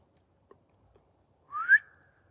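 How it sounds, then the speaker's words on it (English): One short, quiet human whistle, a brief rising two-part note near the end after a few faint clicks, otherwise silence. "Just do a small whistle."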